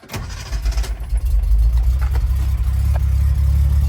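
A warmed-up 1971 Datsun 240Z with its 2.4 engine cranks briefly, catches within half a second and settles into a loud, steady idle close by, no talking.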